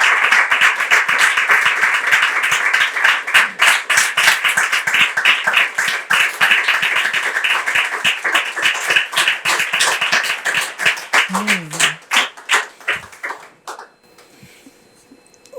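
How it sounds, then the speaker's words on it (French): Loud, close audience applause with sharp, crisp individual claps, sustained for over ten seconds before tapering off into near silence, with a brief voice heard as it fades. "On va l'applaudir, allez, allez."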